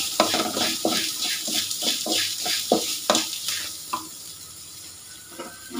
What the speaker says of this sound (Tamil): நல்லா ஃப்ரை ஆனதுக்கு அப்புறமா இஞ்சி பூண்டு விழுதும், அது பார்த்திங்கன்னா நம்ம அமிர்தவல்லி இலை சேர்த்து க்ளீனாக ஃப்ரை பண்ணிடலாம்